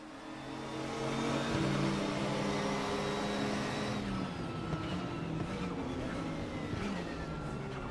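Engines of a pack of race cars roar loudly and continuously in the Raceroom sim racing game during the race start, holding a steady level throughout.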